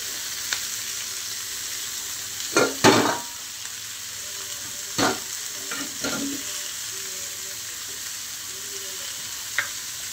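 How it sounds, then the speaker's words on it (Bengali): Steamed prawns and bori fry in a pan with salt, a steady soft sizzle throughout, broken by a few louder stirring scrapes and clacks, no talk. "ভাপানো যে চিংড়ি আর বটবড়ি ছিল সেটা দিলাম, দিয়ে একটু নুন আর লবণ দিয়ে কিছুক্ষণ সময় আমি ভাজবো।"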